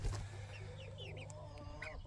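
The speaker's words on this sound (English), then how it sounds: "We got 3 roosters" Cornish Cross meat chickens, a few roosters and hens, cluck softly and intermittently in a pen, faint and close with a low background hum.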